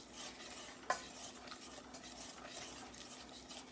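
Caramel icing stirred in a pan on the stove, a soft continuous scraping and swishing with a gentle sizzle, one brief clink of the spoon against the pan early on, faint and close.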